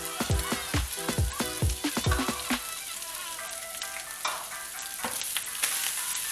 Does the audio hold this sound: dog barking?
no